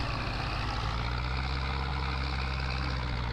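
A small ditch-mowing tractor engine runs in the Farming Simulator video game, a steady loud low diesel drone with a constant rumbling hum and no pauses throughout.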